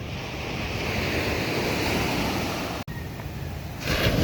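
Sea waves wash and roar continuously with gusting wind buffeting the microphone, loud and close, briefly cutting out before the surge resumes.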